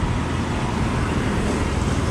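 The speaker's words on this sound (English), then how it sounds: "Look at the orderly traffic." Steady downtown street traffic in Siem Reap, Cambodia: a dense, continuous roar of cars and motorbikes passing nearby, loud and unbroken.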